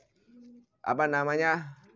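A pigeon gives a soft, low coo, followed by a louder, drawn-out cooing call nearby.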